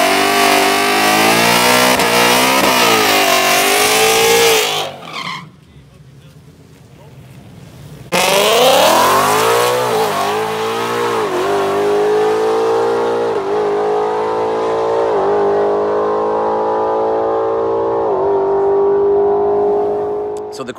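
A 2018-19 Mustang GT engine revs loudly through a line lock burnout, its pitch rising and falling, then drops out for a few seconds before roaring back and holding a high sustained drone.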